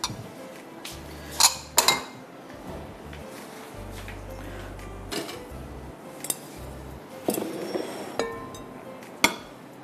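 Grated cabbage being stirred with mayonnaise in a small bowl, giving scattered clinks and scrapes of a utensil against the dish, with a few sharper taps among quieter mixing noise.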